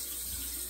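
Water runs steadily from a tap to wet a Rex double-edge razor blade at a sink before shaving. The short, even hissing flow sounds close and unbroken.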